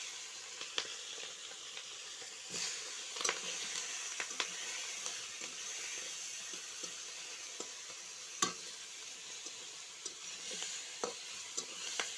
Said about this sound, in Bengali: এবারে ভেজে নেব চিংড়ি মাছ